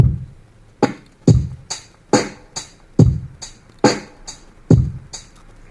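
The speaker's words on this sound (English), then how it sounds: "But it sounds like this for the basic dubstep beat." A basic dubstep drum beat: booming kicks and sharp snares in a slow, steady half-time groove, with crisp hi-hat ticks between the hits.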